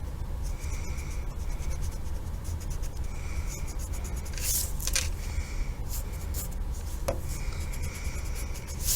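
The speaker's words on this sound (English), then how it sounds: "And we'll erase this line in the shoulder." Pencil eraser rubbing back and forth across paper while correcting a drawn shoulder line, soft scratchy strokes in short bursts, close and fairly quiet, no talking.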